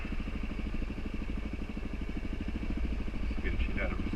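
A Suzuki DRZ motorcycle engine runs close by with a steady, fast thumping pulse that holds fairly even rather than climbing sharply, with brief faint sounds near the end.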